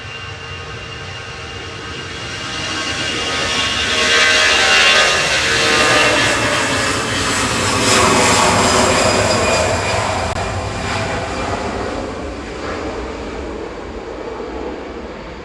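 An Aer Lingus airliner at Manchester Airport roars past, its broad jet engine rumble swelling, holding loud through the middle and then fading slightly, heard from a distance.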